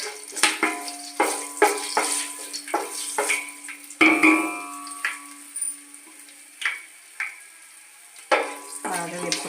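Whole spices such as cloves, cardamom and peppercorns crackle in hot oil for gongura chicken biryani, sharp bursts of sizzle and popping with stirring in between, close and loud, no talk.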